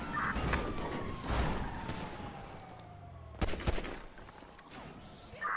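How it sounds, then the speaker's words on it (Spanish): Gunfire in the video game Marbella Vice comes as scattered bursts and sharp single cracks over background game noise. One loud shot stands out near the middle, and more bursts trail off toward the end. "¡Me disparan!"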